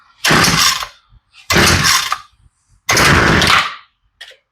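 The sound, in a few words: Homelite weedeater engine being started on full choke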